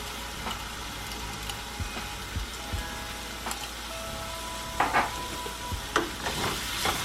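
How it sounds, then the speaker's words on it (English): Minced garlic sizzles in olive oil in a pan while being stirred, a steady close frying hiss broken by scrapes of the spoon that grow louder toward the end. "Go ahead and give that a good stir and cook for maybe 1 more minute."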